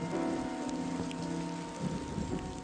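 Rain falling on spider webs in a garden, a dense steady patter of drops on leaves and surfaces with a low rumble underneath, close and continuous, without speech.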